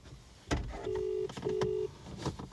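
A mobile phone places a video call, giving two short steady electronic tones about half a second apart, with faint rustling and handling noise around them.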